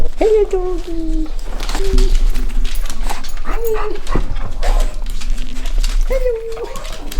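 A dog at a car garage whines and whimpers in short rising cries, several spaced yelps over steady workshop noise, with people talking nearby.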